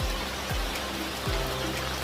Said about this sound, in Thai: เก็บภาพบรรยากาศฝนตกนี่แหละ ให้ดู